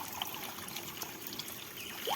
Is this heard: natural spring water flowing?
yes